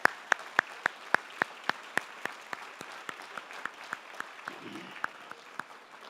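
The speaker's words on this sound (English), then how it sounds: "Please join me in a round of applause." A thin round of clapping at the Oregon Tech 2024 commencement, heard as distinct, evenly spaced claps from a few nearby hands over a faint background of scattered applause, quiet overall and fading slightly toward the end.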